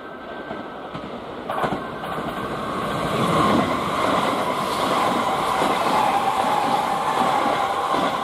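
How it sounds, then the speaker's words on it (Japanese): Kintetsu limited express train rushing through Murouguchi-Ono Station on the Kintetsu Osaka Line, a loud rumble that grows and holds with rhythmic wheel clatter and a high metallic whine, with no talking. "2番線の電車が通過いたします。"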